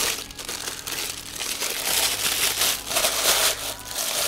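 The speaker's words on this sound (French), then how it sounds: "Désolé pour le bruit de papier." Continuous loud crinkling and crumpling of packing paper while unboxing a statue, rustling steadily close by for the whole stretch.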